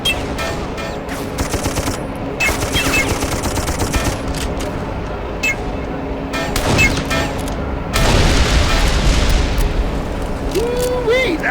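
Sustained gunfire and explosions in the video game Darkest of Days, with rattling bursts, heavy booms and a big blast near the end, layered over battle noise and shouted voices.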